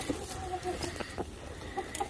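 A broody hen clucking softly and low in a barn, sounding in short, faint bursts against a steady background murmur.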